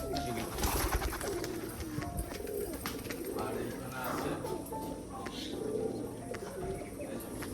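Pet pigeons, including a black muski pigeon with feathered feet, coo and chatter in a home loft while a person talks close by.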